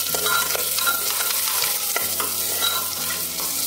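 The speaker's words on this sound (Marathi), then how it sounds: "कढीपत्ता घालूया, 1-2 मिनिटं परतून घेऊ।" Curry leaves and onion sautéing in oil in a pan, with a dense, continuous sizzle and repeated stirring scrapes, close and loud, with a steady low hum underneath.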